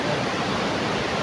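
Water rushes in a creek as a dense, steady broadband wash, loud and close, with no voices over it.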